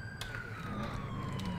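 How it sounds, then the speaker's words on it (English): A police car siren from the video game GTA IV wails steadily and loudly throughout, with a continuous engine-like rumble underneath. "You gonna turn the siren off"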